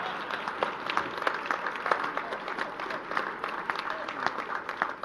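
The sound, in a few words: audience applause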